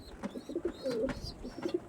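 A female Andhra pigeon carrying eggs coos close by in a series of soft, throaty, rolling calls, with brief chirpy notes between them and no voices.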